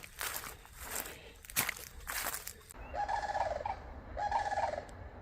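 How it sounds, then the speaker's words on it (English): Sandhill cranes call from behind bushes on a still, quiet morning along the Florida Trail, two bursts of rolling, trilling bugling after a stretch of rustling and footstep-like noise, moderately distant. "there's some sandhill cranes right through the bushes there"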